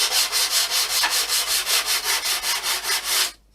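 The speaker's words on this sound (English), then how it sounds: "So as you can see, I've been sanding" Rapid, rhythmic back-and-forth sanding strokes on a superglue joint of an RC model plane, close and fairly loud, about five per second, stopping abruptly at the end.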